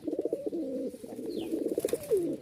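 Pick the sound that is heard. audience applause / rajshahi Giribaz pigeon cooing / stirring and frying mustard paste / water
rajshahi Giribaz pigeon cooing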